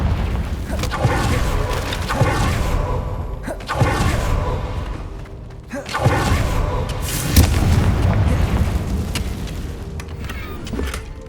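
A spell blast cast in Hogwarts Legacy, a series of loud booming explosions with heavy low thuds and crackling debris, arriving in several bursts over a dense game soundscape.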